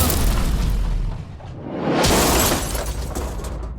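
A powerful explosion blows open a safe, a deep booming blast with shattering crash, followed by a second loud burst of debris and rumble that lingers to the end.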